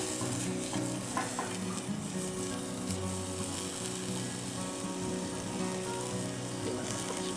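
Bacon fries in a G.I. mess kit pan over a campfire with a continuous crackling sizzle that stays close and even for several seconds, and no one speaks.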